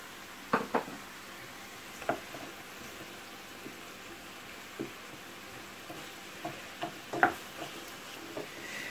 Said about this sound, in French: là j'ai les 2 tomates que j'ai coupées en petits morceaux que je vais ajouter à notre plat